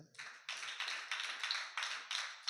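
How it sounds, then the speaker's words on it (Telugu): Congregation clapping along at a church service, several bursts of hand claps swelling and fading in an uneven rhythm, moderately close and fairly loud, with no talking. "చప్పట్లు కొట్టచ్చుగా"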